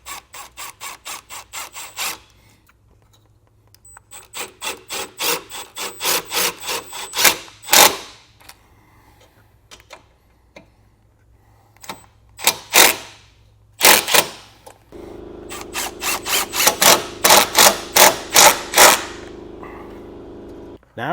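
Self-tapping screws are driven into a 2025 Jeep to mount a relay, heard up close as a series of rapid ratcheting, rasping bursts separated by short pauses.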